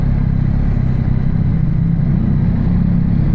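A Yamaha XSR 900 motorcycle rides over a brick road in Gran Canaria, its engine giving a steady, loud, low drone mixed with rumbling road and wind noise and no pauses.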